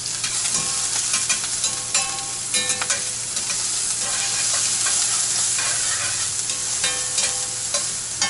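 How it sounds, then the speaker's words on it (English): Onions fry loudly in a pan with a constant close sizzle and crackle, with occasional clinks and stirring scrapes over the steady hiss of oil, as part of a vegan breakfast burrito. "Toss my onions in first. Get those going."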